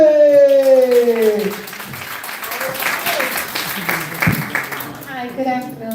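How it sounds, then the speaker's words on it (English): Forum audience in Brooklyn applauding and clapping after a speaker's introduction, a broad, steady wash of hands filling most of the clip, with speech over it at the start and again as the clapping fades. "I want you to stomp your feet, clap your hands for Yvonne Pritchett."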